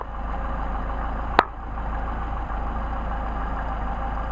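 An engine fitted with a Solex carburetor idles with a steady, even low rumble throughout, broken once by a brief sharp click.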